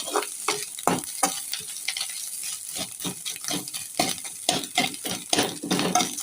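Fish roe fried with ginger paste in a pan, sizzling steadily while a utensil scrapes and stirs in frequent, irregular strokes, close and fairly loud, with no talking.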